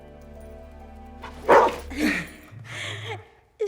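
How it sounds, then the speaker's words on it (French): A dog lets out a few close, sharp barks and whimpering yelps in short separated bursts over a quiet background hum, with no one talking over it. "c'est le chien de Mikey"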